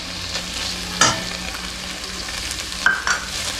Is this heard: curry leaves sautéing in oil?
yes